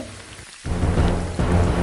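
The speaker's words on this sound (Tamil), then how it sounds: "மழை வேற நிற்க மாட்டேங்குதே" Heavy rain pours down steadily, a dense, loud hiss that drops briefly before surging back even stronger, with no voices present.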